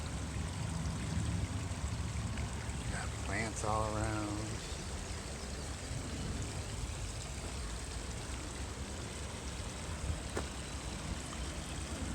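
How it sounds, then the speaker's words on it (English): A spring stream runs and splashes continuously nearby, a steady watery rush, while a person briefly speaks over it. "Beautiful sound. Running water."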